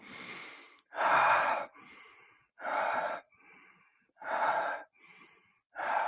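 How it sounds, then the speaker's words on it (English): Someone breathes forcefully in and out through the mouth in a breathing technique, a close, loud rhythm of strong rushing breaths alternating with softer ones. "we're going to breathe in and out the mouth"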